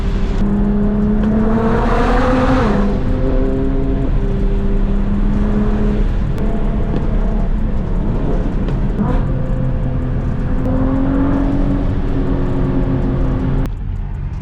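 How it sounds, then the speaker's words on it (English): Nissan GT-R accelerating hard on a canyon road, a loud continuous engine roar with rising revs and gear changes, close and steady throughout, with wind and road rumble underneath. "This car just picks up speed so fast."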